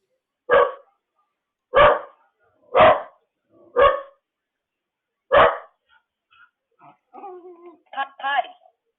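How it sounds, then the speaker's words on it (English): Five sharp dog barks spaced about a second apart, loud and close, followed by softer whining, yelping noises. "Clearly the dog is barking."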